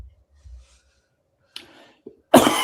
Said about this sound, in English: Sorry, coughing a bit here.